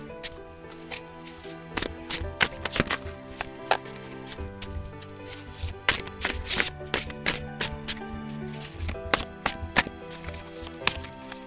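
A deck of tarot cards is shuffled by hand, making a dense, close run of crisp riffling and slapping snaps that continues without pause.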